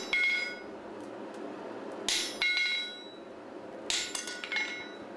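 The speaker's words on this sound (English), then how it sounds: "each hammer blow overlaps the other" Hammer blows ring out while a heavy horse shoe is forged by hand, two bright metallic strikes with clinking overtones, separated by steady background noise.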